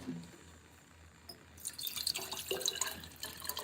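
Water runs from a tap while containers are refilled, starting faint and then swelling into a louder, splashy rush halfway through, with no voices.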